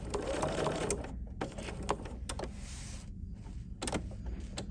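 A sewing machine stitches a poinsettia trivet with red Aurifil thread, its motor running in short steady bursts with brief pauses between runs, close and moderately loud with no voices.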